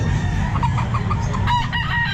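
A rooster crows close by at a pet market in Calumpit, Philippines, one loud drawn-out call over a steady low rumble.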